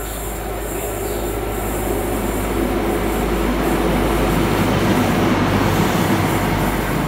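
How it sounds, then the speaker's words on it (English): A CrossCountry HST diesel passenger train arrives at Newton Abbot station, a loud continuous roar of engines and rolling wheels with faint squeal, steady and close throughout. "Coming in now is a cross country HST service to Leeds via Bristol Severn Meads."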